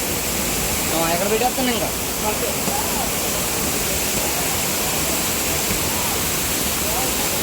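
The Bahubali waterfall pours in a loud, steady roar of rushing water that fills everything, with a person talking briefly over it.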